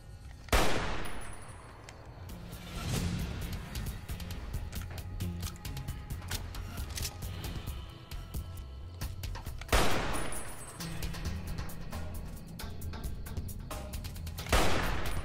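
Gunfire from Fallout: New Vegas: bursts of shots and rapid automatic fire crackle throughout, with loud sharp blasts near the start, around ten seconds and at the end, over a busy rumbling battle background.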